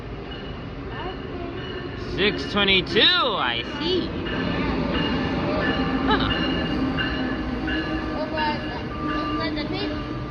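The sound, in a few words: Amtrak train at New Carrollton station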